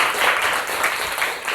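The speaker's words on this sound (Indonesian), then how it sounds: "tepuk tangan buat semuanya." A classroom of students claps together in dense, continuous applause, heard nearby at a steady level for the whole stretch.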